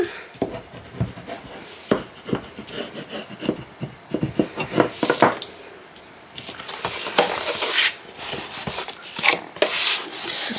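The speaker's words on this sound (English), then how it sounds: "burnish all of that" Paper for an envelope mini album being burnished down with a tool, a steady close rubbing and scraping in quick repeated strokes that stays loud and continuous throughout.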